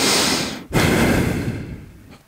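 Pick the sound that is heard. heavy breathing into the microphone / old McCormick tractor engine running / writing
heavy breathing into the microphone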